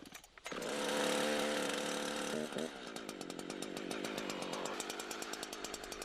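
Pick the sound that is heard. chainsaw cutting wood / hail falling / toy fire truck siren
chainsaw cutting wood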